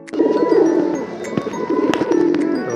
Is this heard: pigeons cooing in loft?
yes